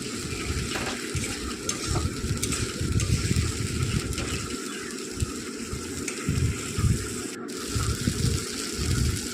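Water splashes into a soybean curry simmering in a pan, a rough gushing pour mixed with bubbling and the clatter of stirring, fairly close and continuous throughout.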